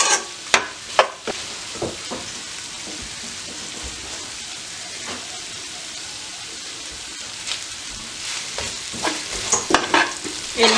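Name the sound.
meat being stir-fried in a pan for Marai Pirattel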